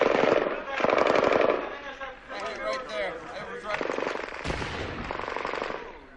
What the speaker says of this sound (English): That's mortar.